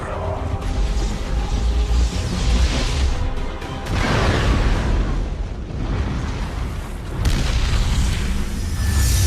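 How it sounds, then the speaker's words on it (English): Explosions in the video game Helldivers, with heavy booming blasts and rumbling debris filling the scene, loud and continuous, with a brief dip midway before another burst of blasts. "The ultimate cool guy doesn't look at explosion."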